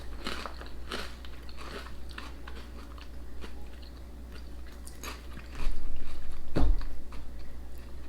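Crunching bites into UK crisps, a series of crisp, crackly crunches close to the mic with a louder snap near the end, no talking.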